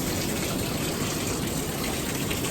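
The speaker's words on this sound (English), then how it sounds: "It's pouring, like flooding almost." Heavy rain pours down in Cape Town, a dense, unbroken hiss and rush of water close by with no voices over it.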